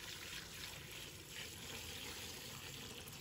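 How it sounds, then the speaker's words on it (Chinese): Clean water pours into a basin of cauliflower in a kitchen, a steady close-up rushing splash that holds at an even level the whole time, with no talking. "倒入清水"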